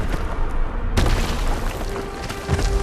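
A loud, booming magical impact bursts in suddenly about a second in, as an Expelliarmus spell is cast in Hogwarts Legacy, then a rumbling game soundscape carries on after it.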